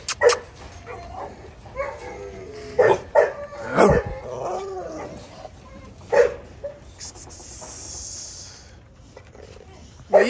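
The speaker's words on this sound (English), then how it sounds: "I'm trying to show y'all these dogs." American Bully dogs give a series of close, loud, irregular barks and yips, with whimpers between them and a person talking in between.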